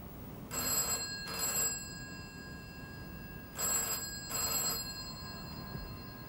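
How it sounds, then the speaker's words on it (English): A telephone bell rings in two double bursts, the pairs spaced about three seconds apart, clear and fairly close against a faint hiss, in an evening scene in a London flat overlooking the city lights. "Phone. I think I'd better answer it if you'll excuse me."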